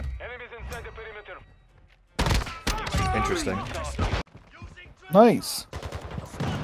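Light machine gun fire in a third-person video game, with sustained bursts of gunfire in the middle stretch, surrounded by people talking over it and a short exclamation.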